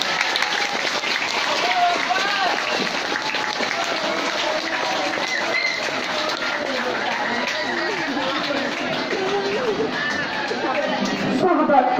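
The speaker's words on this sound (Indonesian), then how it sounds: "Kita ucapkan aplaus untuk Ibu Ita semuanya" Applause at a farewell gathering for a departing coworker, a sustained crowd clapping across the whole stretch with murmured chatter underneath, swelling slightly at the end.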